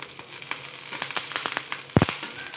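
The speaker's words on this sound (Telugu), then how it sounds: "ఆయిల్ వేడైన తర్వాత మనము ఆనియన్స్ వేసుకున్నాము ఉల్లిగడ్డలు పచ్చిమిర్చి కరివేపాకు వేసుకొని బాగా" Onions, green chillies and curry leaves sizzle in hot oil for a chicken curry, a close crackling fry broken by scattered spatula scrapes and one sharper clatter near the end, with no talking.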